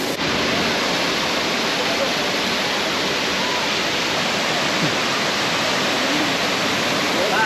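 A tropical waterfall on Siquijor in the Philippines roars as a steady, dense wash of falling water, loud and constant throughout with no break, with no one speaking over it.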